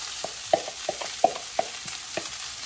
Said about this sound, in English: So mainit na yung oil ko. So ang first na ilalagay natin, lulutuin natin is my onion.